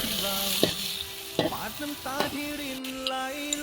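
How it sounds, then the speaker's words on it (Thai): Garlic fries over low heat with a drop of water added, making a close, steady sizzle. A few sharp stirring knocks sound over it, and no one speaks. "ไฟอ่อนๆนะครับกระเทียมต้องไฟอ่อนๆหยดน้ำสักนิดหนึ่ง"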